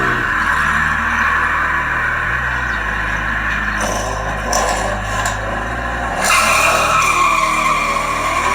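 Hot Wheels die-cast toy cars race down a track, giving a steady loud rolling rumble with shifting whirs and scraping squeals, continuous and close.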